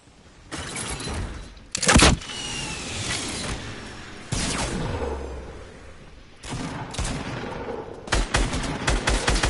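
Gunfire in the video game Fortnite comes as bursts of rapid automatic shots and single sharp cracks, loud and close, with pauses between volleys and a dense flurry near the end.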